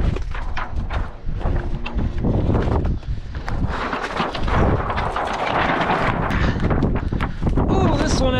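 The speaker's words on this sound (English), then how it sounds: "Oh, here comes the wind." Strong gusty wind outdoors roars steadily against the microphone, with rustling and clattering debris mixed in and voices speaking over it.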